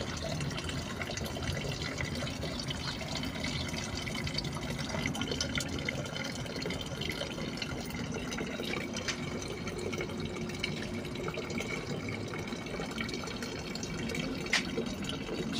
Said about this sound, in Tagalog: Mahina ang tulo ng tubig.